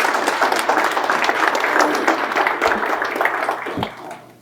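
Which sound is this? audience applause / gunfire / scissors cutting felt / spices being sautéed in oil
audience applause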